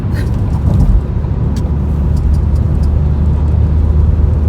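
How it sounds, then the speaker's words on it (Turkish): A car cruising along a long motorway, heard as a steady, loud, low road-and-engine rumble with constant wind and tyre noise that stays even throughout. "Şimdi böyle bir güzel araba süreyim ya."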